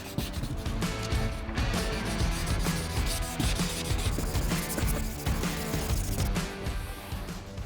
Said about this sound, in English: We're going to continue now with the normal wet sanding. I'm using the 500 grit to finish this off, to scuff this area, to smooth this out even more,